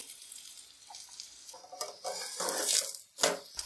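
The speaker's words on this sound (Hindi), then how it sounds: "दोनों तरफ से गोल्डन कलर आने तक फ्राई करेंगे।" Aloo paratha frying in ghee in a pan gives a soft, steady sizzle. Scraping and pressing sounds rise over it toward the end, all heard close.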